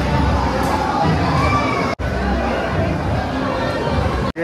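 A big crowd at a water park in Rajgir makes a constant hubbub of chatter and children's shouts, busy and close throughout, with a short break partway.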